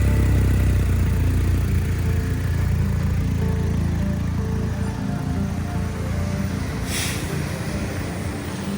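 A BMW R1250GSA motorcycle runs at idle close by, a steady, dense low rumble that stays even throughout with a faint hiss of wind or traffic behind it.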